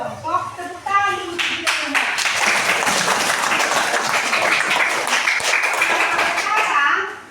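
A classroom group of children clap their hands together, starting with a few scattered claps and swelling into sustained, loud, overlapping clapping that lasts several seconds before stopping, with a few children's voices at the start and end.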